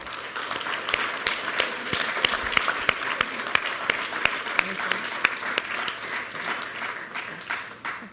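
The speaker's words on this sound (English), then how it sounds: "give the families that are here with us a round of applause as well" Audience at a technology center awards ceremony applauding the families present, a sustained round of clapping from a crowd with a few sharp nearby claps standing out.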